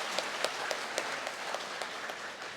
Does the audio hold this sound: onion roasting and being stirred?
no